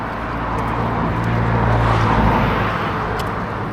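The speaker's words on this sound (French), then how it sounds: "un peu bruyant avec le bruit des vagues à droite et les voitures à gauche" Cars pass on a coastal road near Zarautz, a steady engine and tire rumble swelling slightly as a vehicle goes by, with surf noise blended in and no talking.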